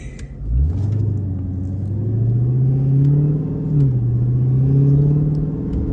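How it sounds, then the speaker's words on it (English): Supercharged Dodge Hellcat engine rumbling close by, rising and settling through two long revs with a steady low drone and a faint whine riding on top. "What about the supercharger whine? You like the whine? Why? The Hellcat noise."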